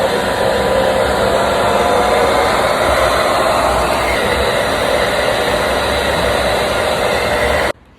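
Konka Anion hair dryer blowing air as a steady, loud, broadband whoosh with a low motor hum underneath, running continuously until it cuts off abruptly at the end.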